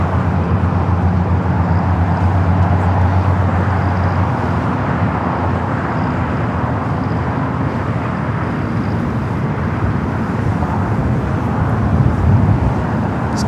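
Qantas airliner taxiing at LAX, turning onto a taxiway: a steady, moderately loud engine hum with a low drone, mixed with distant traffic noise and no voices.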